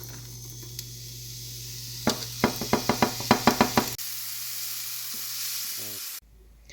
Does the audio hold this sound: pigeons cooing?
no